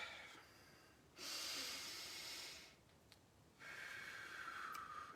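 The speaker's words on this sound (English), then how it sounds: "Take a deep breath." Two long, soft breaths drawn slowly during a relaxation prayer, each a broad airy hiss lasting a couple of seconds, close and quiet, separated by a short pause with no talk.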